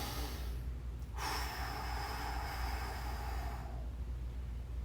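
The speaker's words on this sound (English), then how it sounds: "deep breath in" A deep, steady breath rushes close and loud for several seconds during a stick mobility stretching workout, a long continuous airy exhale with no talking.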